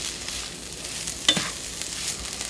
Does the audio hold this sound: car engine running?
no